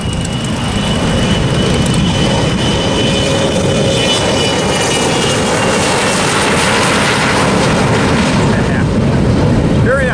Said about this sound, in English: here's this jet about to take off.